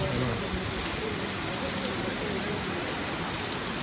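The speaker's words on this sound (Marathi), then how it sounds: "आत्ता बघा किती जोरात पाऊस आला" Heavy rain pours down steadily, a dense, loud hiss of drops with no break.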